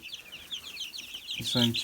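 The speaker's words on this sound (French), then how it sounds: "je vais vous attraper le coq pour qu'on voit mieux" Chickens cluck and chirp in a poultry house full of chicks as a rooster is caught, a steady run of fowl calls with a louder, closer burst of flapping and squawking near the end.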